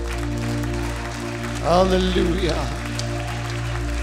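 A church congregation breaks into a burst of hand clapping for about a second, loud and close over a steady background hum, with a voice calling out during it.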